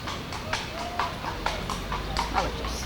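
Hooves of a horse clip-clopping at a steady walking pace, a series of sharp clops over faint background noise with no one talking.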